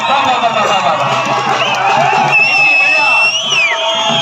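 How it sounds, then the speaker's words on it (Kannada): Children at a kusti wrestling match shout, scream and whistle in a loud, continuous crowd din, with a few long shrill whistle tones rising above the clamor near the end. "ಮಕ್ಕಳ ಕೂಗಾಟ, ಕಿರ್ಚಾಟ, ಶಿಳ್ಳಿ"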